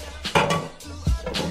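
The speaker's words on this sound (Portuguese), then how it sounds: "deixa eu pegar uma outra panela" A cooking pan picked up and handled in a home kitchen, giving a few close, soft metallic knocks and clatters spread over a second or two, with no talk.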